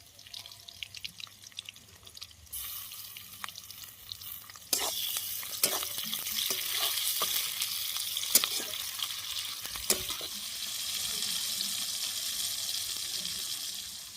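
Dried raw mango and tomato dropped into hot oil, sizzling and frying steadily with scattered crackles and spoon clinks, growing louder after the pieces go in.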